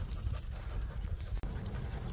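Several dogs pant close by during a rest stop for water in a village, a quick rhythmic huffing that continues steadily throughout, with no talking.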